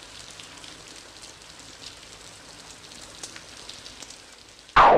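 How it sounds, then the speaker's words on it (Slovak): Heavy rain pouring steadily as a dense, even hiss of drops on surfaces, ending in a sudden loud burst of another sound at the very end. "chčije a chčije."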